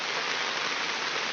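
Steady rain falls, a dense, even hiss of drops with no breaks, heard alone for just over a second.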